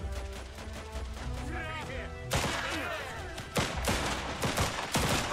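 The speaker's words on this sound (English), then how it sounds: "Machine gun." Sustained machine gun fire in the video game Last Train Home, with long, loud bursts of rapid shots that grow denser after the opening, over a battlefield mix with voices underneath.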